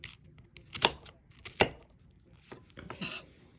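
Knife mincing onion on a cutting board, a few sharp separate chops and clinks spaced out at close range, fairly quiet overall.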